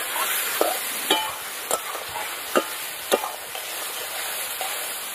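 Potatoes with tomato, cumin, ginger paste, chilli paste, coriander and turmeric sautéed in a pan, a steady sizzle punctuated by several sharp spatula scrapes against the pan.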